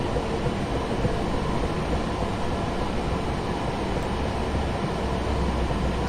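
An eight-coach electric train in Train Sim 2020, on the London Victoria to Brighton line near Clapham Junction, gives a steady loud rumble and hum that stays even and unbroken throughout.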